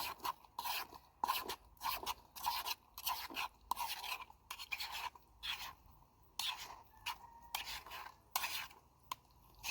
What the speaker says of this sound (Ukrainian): Перемішую останній раз.